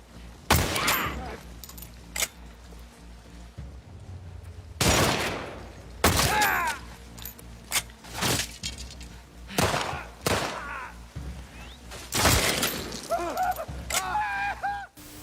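Gunfire from firearms in The Last of Us Part 2 video game, a series of loud, sharp shots fired in irregular bursts with ringing tails, with a quiet gap in the middle and a few closely spaced shots near the end.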